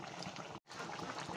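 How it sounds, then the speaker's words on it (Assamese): Curry liquid of duck and pumpkin comes to a boil just after hot water is poured in, a steady close bubbling and rushing hiss, broken by one brief silent gap. "পানী দিয়াৰ লগে লগে উতল আহি গৈছে"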